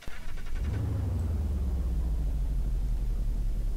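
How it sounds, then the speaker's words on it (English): American muscle car engine idling in BeamNG.drive, a deep, steady low rumble that settles in after a brief start and holds loud and close throughout. "Has a very American muscle sound to it"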